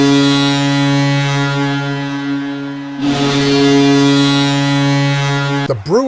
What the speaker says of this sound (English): All I hear is the siren.